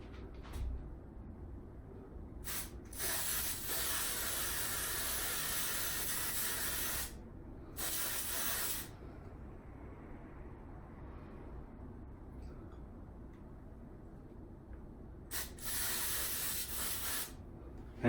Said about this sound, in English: let's see how good my spraying skills are with this stuff